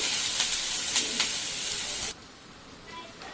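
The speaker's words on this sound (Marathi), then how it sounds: "दोन मोठे कांदे गुलाबीसर रंगावरती तेलात छान परतून घ्यायचे।" Two large onions fry in hot oil, producing a bright, steady sizzle with small pops that cuts off abruptly, leaving faint quiet noise.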